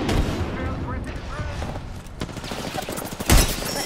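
Gunfire from the battle-royale game Apex Legends, with repeated close shots and a loud boom near the end, under a gamer's talk.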